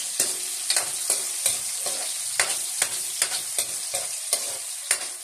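Onion sautéing in a pan for mung beans with glass noodles: a bright, steady sizzle broken by regular sharp scrapes and taps of a spatula stirring about twice a second, close and without talk.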